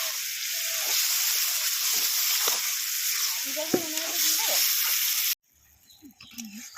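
Small chopped pieces of lote fish fry in a pan while being stirred, giving a steady, close hissing sizzle with faint scraping. A voice talks over it, and the sizzle cuts out abruptly near the end, leaving quieter stirring noises.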